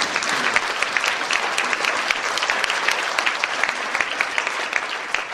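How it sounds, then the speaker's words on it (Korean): Warm applause from an elderly audience at a national emergency elders' meeting held in a Seoul hotel ballroom, a thick, continuous wash of clapping with crisp individual claps standing out, loud and sustained with no talking. "다시 한번 뜨거운 박수로"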